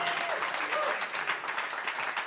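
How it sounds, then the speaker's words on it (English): An audience at a live music set claps steadily in a dense, continuous wash of applause lasting a couple of seconds. "keep that applause going"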